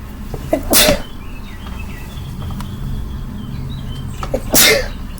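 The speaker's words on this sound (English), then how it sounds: "I have to sneeze." Two sharp human sneezes burst out, one early and one near the end, each loud and close, separated by a few seconds of quiet room noise.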